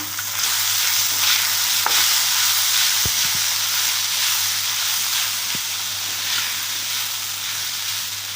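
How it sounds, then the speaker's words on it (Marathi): Kanda poha with onion and salt stir-fried in a pan: a steady, loud sizzle with a broad hiss throughout, broken by a few sharp spatula scrapes and clinks, no talking. "चवीनुसार मीठ टाकायचं आहे, परतवून घेऊया।"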